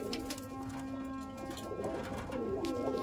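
Madrasi pigeons coo softly at close range, low repeated throaty calls over a steady background hum with faint rustling.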